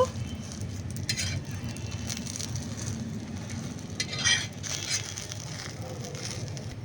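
Steady sizzling of an egg frying in a hot pan with a little oil, a constant crackle with a few louder spatters and scraping stirs.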